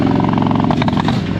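A 2021 Harley-Davidson Street Glide with the Milwaukee-Eight engine is held at a steady high RPM by launch control, giving a loud, close, continuous throbbing drone with rapid firing pulses and brief rattly flutters.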